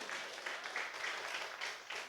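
A church congregation applauds during a sermon, a soft, steady wash of many hands clapping at once that carries on for about two seconds without a break.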